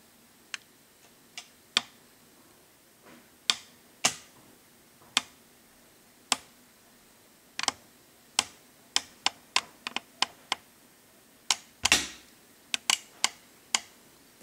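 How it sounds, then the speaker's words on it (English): A camera being moved on a tripod gives off a series of sharp, dry clicks, isolated at first and then in quicker irregular clusters, close and crisp against near silence. "The clicking is from moving the camera around on the tripod, which decides it wants to add its own sound effects."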